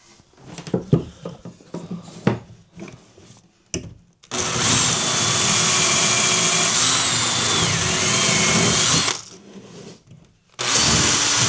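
A power drill bores into wood while a storage chest bed is assembled: short bursts of tapping and handling, then a loud sustained whine for about five seconds, a pause, and the motor starting again.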